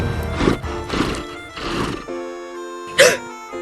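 A horse neighs at a gaucho bronco riding event, a rhythmic series of bursts followed by a sharp whinny, while an announcer narrates over it.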